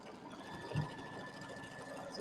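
An embroidery machine stitches a quilt border, running as a soft, steady mechanical whirr at low volume with faint background noise throughout the short stretch.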